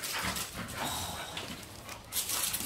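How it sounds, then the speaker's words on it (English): Dogs play and romp indoors in a brief burst of scuffling, panting and paw thumps, close and lively, with light rustling throughout. "my dogs are getting all frisky"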